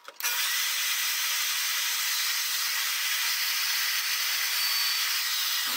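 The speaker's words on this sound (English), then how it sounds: "So we'll just do that at the portable bandsaw." A portable bandsaw cuts through the plastic fender of a 2023 KTM 450 XCF dirtbike, giving a steady, loud, close-up buzzing rasp that starts abruptly and runs unbroken for several seconds before stopping.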